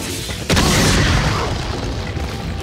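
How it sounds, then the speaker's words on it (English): A grenade explodes in the Resident Evil 4 video game. A single loud, sudden blast is followed by a long rumbling decay with no voices over it. "Do we want to use a grenade?"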